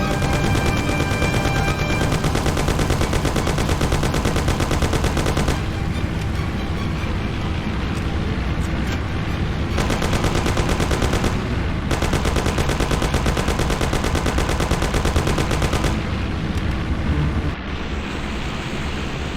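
Sustained loud bursts of gunfire during a car chase in the game Mafia, with engine roar underneath, dense and relentless throughout with short lulls.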